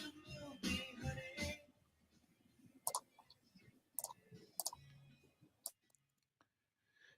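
Typing on a computer keyboard during an online show, with a quick burst of clicks early and then sparse, scattered sharp key taps and pauses, fairly faint and close.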